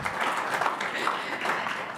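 Audience clapping at an Allegheny County Council regular meeting, a short burst of dense applause from a room full of people, fairly loud and even for about two seconds.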